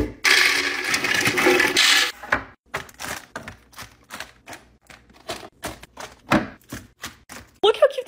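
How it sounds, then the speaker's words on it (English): Dry snacks poured and dropped into containers while organizing a pantry, first a dense rushing rattle of many pieces, then a string of separate sharp clicks and clunks in an irregular rhythm, close and crisp. "Now I'm gonna fill the snacks."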